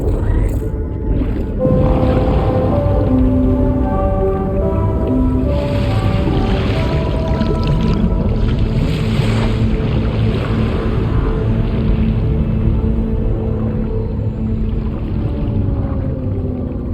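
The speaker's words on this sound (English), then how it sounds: "Discharging tar ballast tanks. DHV Mellin surfacing." A large game ship, the DHV Magellan, vents tar ballast and surfaces in Death Stranding 2, with deep groaning whale-like tones, a steady low rush of churning liquid and creaking hull sounds, loud and continuous.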